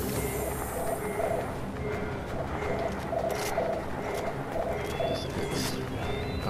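Dove cooing in the Far Cry 4 video game, a soft repeated coo phrase sounding several times in a steady rhythm over a constant ambient game background, with no talk.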